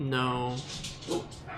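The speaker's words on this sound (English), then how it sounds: "Apologies for the dog, I have no idea what they're on about." A dog barks and whines close by in a short harmonic burst at the start, then someone talks over the quieter remainder.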